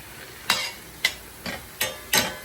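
A spoon scrapes and clinks through sliced ingredients in a pan over a soft sizzle. Five distinct, close stirring strokes come in a loose rhythm, with no voices.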